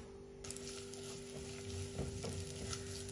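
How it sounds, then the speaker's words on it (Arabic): Onion and garlic fry in a pan on a gas stove with a steady, close sizzle and a low burner hum, broken by occasional stirring scrapes and spatters. No one speaks. "اول شي بحط البصل والثوم، بقليهم على الغاز"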